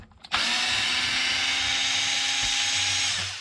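A power drill unscrews screws from a Traxxas XRT RC truck being torn down, whirring loud and steady for about three seconds before winding down, with no talk.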